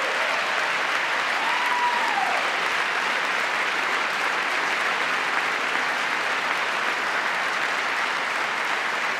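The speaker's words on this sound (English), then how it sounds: "There we go. Clap it up." Loud, steady applause from a large audience at Trump's joint address, clapping sustained without a break for the whole stretch, with no speech over it.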